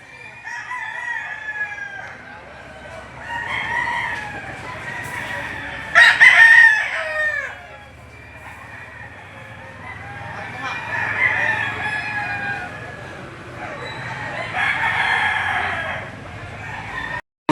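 Roosters at a livestock auction market in Lipa, Batangas crow repeatedly and loudly, several overlapping crows and clucks rising and falling over a busy background.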